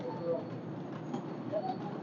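Several pigeons of old fancy breeds, kept by a Rawalpindi pigeon keeper, coo softly and repeatedly close by, with steady low background noise throughout.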